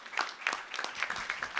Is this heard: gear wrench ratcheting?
no